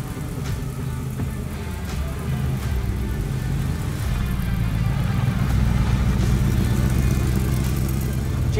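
A Ford GT40 Le Mans coupe's engine runs with a steady mid-pitched rumble that holds for several seconds, heard from nearby at a constant moderate level.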